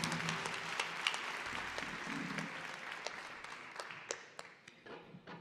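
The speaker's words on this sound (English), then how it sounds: "let's give him a round of applause" A crowd at a school spring guitar showcase applauds steadily, the dense clapping fairly soft and distant, tapering off toward the end with a few scattered claps.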